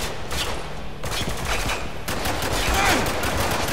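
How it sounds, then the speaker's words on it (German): Rapid bursts of automatic gunfire from the video game Spec Ops: The Line, fired at ventilation grates in a loud fusillade with short gaps between volleys, over a dense combat background. "Ich schieße auf die Lüftungen"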